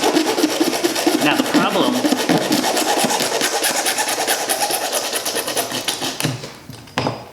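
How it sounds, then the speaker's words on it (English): A hacksaw cuts through Corsair Hydro X hard tubing with rapid, rasping back-and-forth strokes, close and loud, continuing steadily throughout while someone speaks briefly over it. "What do you have to cut with? A hacksaw. So you just cut it."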